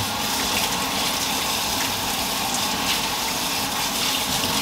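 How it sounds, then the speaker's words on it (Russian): Button mushrooms washed under a running tap, a continuous close rush of splashing water, even and fairly loud, with no speech. "Шампиньоны мою."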